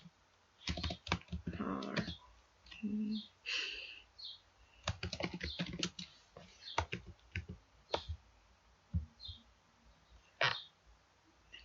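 Quick clicks and clatter from a computer keyboard being typed on in irregular bursts, close and fairly quiet, with a brief murmur of speech.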